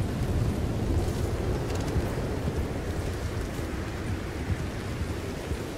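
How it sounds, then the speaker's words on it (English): Heavy rain in a video game: a dense, steady roar of downpour that holds at an even level throughout, with no talking. "it's raining so hard"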